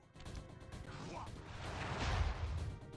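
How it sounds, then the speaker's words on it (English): Bursting explosions from a Flame Fu firework attack in the Sly Cooper video game, a rising barrage of booming blasts and crackling pops that swells toward the end, with a voice faintly mixed in. "I will send you to your doom with the beauty of my new firework technique, Flame Fu."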